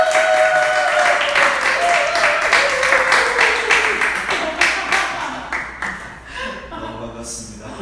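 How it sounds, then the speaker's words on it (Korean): A church congregation applauds to welcome a missionary coming forward at a special worship service, a full wash of clapping mixed with voices that thins out and fades toward the end. "이 시간 성상아 선교사님 앞으로 나오실 때 박수로 환영해 주시기 바랍니다"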